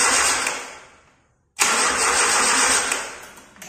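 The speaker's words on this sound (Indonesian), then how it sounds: "Mesin tidak bisa hidup." A motorcycle engine cranks over and fails to catch, with a loud burst of starter noise that fades into near silence before a second loud cranking attempt runs on. The setting is a classroom diagnosis of an ignition-system fault.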